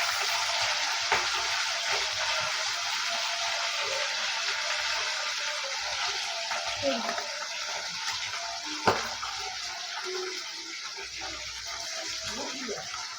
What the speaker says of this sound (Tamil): மத்தி மீன் பொரியல்